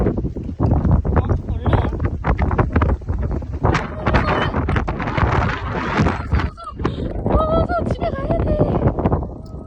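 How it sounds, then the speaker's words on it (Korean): Strong outdoor wind buffets the microphone in a continuous, heavy rumbling roar. A child and an adult talk over it. "바람이 이렇게 부는데"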